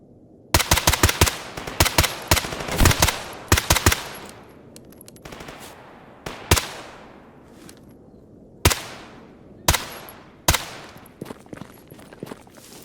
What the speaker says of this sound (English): A mighty fine shooting by me, not so mighty fine shooting by them.